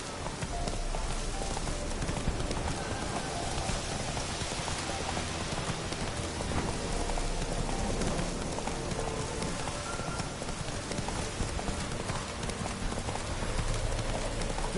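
Horse Roach trotting with steady, continuous clip-clop hoofbeats in The Witcher 3, mixed with a constant rain patter and ambient game sound, loud and close throughout with no talking.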